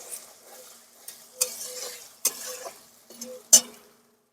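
Moong dal is stirred in a pan with a spoon, giving several distinct scraping strokes against the pan's bottom, some with light metallic clinks, over a soft sizzle close by and without any talking.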